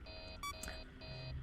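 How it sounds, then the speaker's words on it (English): Electronic beeping from Freddy's nose on a poster in the video game Five Nights at Freddy's 3: steady high tonal beeps in two sustained bursts with a short gap, over a low background hum. "Freddy's nose still beeps in that little poster right there."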